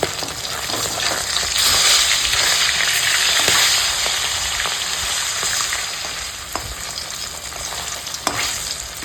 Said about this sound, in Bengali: আমি এখন মাছগুলো ছেড়ে দিচ্ছি বিতিয়ে দিয়ে ভেজে নেব